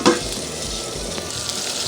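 Sauce of rice and seasonings for a Kenyan-style chicken dish sizzling and simmering in a pan, a steady close crackle with a brief stirring clatter at the start and no talk.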